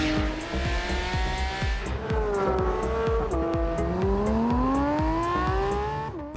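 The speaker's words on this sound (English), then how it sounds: "The car sounds superbly, especially from the inside." A new Porsche 911 GT3 engine screams loudly and continuously on a racetrack, pitch climbing and dropping through gear changes, with a steady mechanical rumble underneath.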